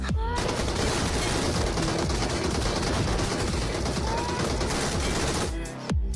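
Dense, continuous rapid gunfire in the video game PUBG Mobile roars without pause for several seconds, loud and close, like a sustained automatic barrage.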